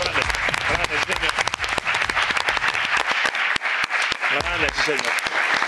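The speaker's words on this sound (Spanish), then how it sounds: "Aplausos para Germán y Costi." An audience applauds loudly and continuously at a boxing weigh-in event, with dense, sharp claps. Someone speaks briefly over the clapping.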